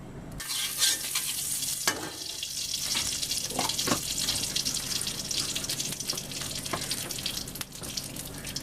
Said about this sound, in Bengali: পাঁচফোড়ন একটু তেলে দিয়ে দেবো